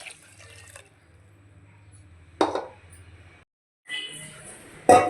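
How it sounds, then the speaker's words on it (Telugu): Water poured from a glass into ground curry leaf paste, heard as a few separate bursts of splashing and trickling, close and fairly loud, separated by brief pauses. "మనం గ్రైండ్ చేసుకున్న దాంట్లోనే వాటర్ పోసేసుకుందాం"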